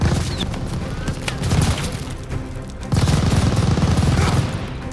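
Machine gun fire in Call of Duty Vanguard rattles in loud, rapid bursts with heavy booming impacts, dense and continuous, rising even harder in the second half.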